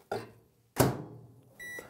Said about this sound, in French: On ajoute de l'huile, on fond le tout au micro-ondes